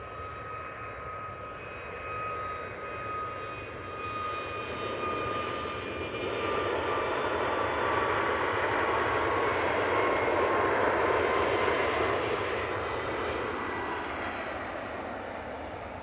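A Ryanair Boeing 737 MAX on its takeoff roll at Manchester Airport, a distant jet roar with a thin engine whine that builds steadily louder, then eases as it climbs away, no voices.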